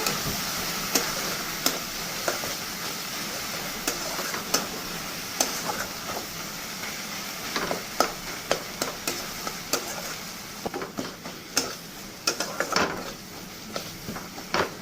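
Spice paste (masala) sautéed in a pan, with a steady low sizzle under repeated sharp clinks and scrapes of a spoon stirring against the pan, close and moderately loud, no talking.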